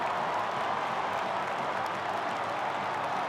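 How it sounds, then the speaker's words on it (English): A stadium crowd at a Texas A&M at Texas college football game roars in a continuous, loud wash of cheering and clapping that holds steady throughout. "Crowd is going nuts"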